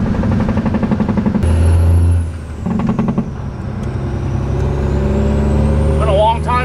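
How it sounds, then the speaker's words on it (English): An old Peterbilt 379 semi truck with a Cummins engine driving, its deep diesel rumble loud and close, with a hiss of air and shifting engine tone through the run. "It is so awesome driving this truck."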